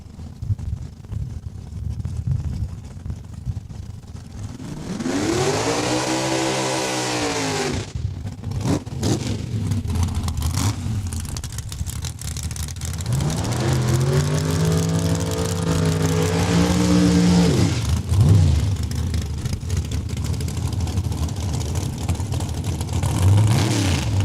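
Street legal race cars accelerating hard at Saskatchewan International Raceway during qualifying, two loud rising engine runs with climbing gear-change sweeps, separated by a steady background rumble.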